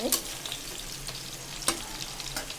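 Large pakoras frying in hot oil as they are turned over one by one, giving a steady close sizzle with a few sharper clicks and spatters from the flipping.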